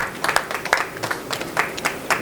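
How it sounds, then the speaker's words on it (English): Scattered hand clapping from a small audience at the final of a bowling tournament, a brief patter of uneven claps heard fairly close with no talking over it. "How about a nice round of applause for our final 8 competitors of the day."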